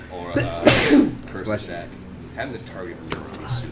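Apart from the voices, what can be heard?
sneeze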